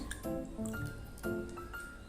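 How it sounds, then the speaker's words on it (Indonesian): Water poured onto a potted plant, a soft close trickle and splash with dripping and gurgling pulses, faint and brief. "Kita siram ya tanaman ini supaya tanamannya tidak mati"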